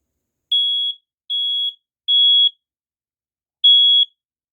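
A First Alert dual-sensor smoke alarm sounds during a photoelectric sensor test, giving four loud, sharp electronic beeps. Each beep lasts about half a second, with a longer pause before the last one.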